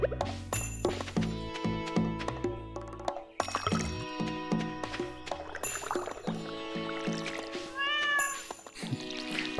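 A cat meows in Stardew Valley, a short game meow set against busy layered background music that plays throughout.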